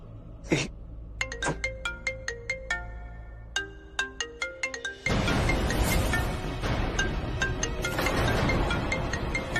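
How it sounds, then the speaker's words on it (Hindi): A phone's electronic ringtone plays a repeating melodic pattern of bright tones, then loud, dense noise and music-like sound take over for the rest of the clip. "ऋषि यार प्लीज फोन लग जाए तुम्हारा।"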